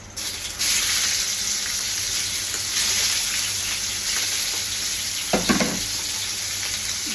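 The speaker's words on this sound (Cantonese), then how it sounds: "爆香佢，跟住落隻鮑魚，" Abalone stir-fried with spring onions in hot oil makes a loud, dense sizzle that fills the clip, broken near the end by a few close spatula scrapes.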